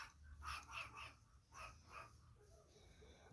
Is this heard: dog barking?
yes